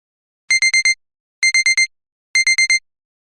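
Three bursts of rapid electronic beeping, four beeps each, evenly spaced and bright, with silence between the bursts.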